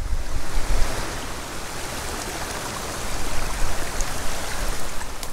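Strong wind buffeting outdoors beside a mountain stream in Colorado, a steady loud roar with gusts, mixed with rushing water and no voices.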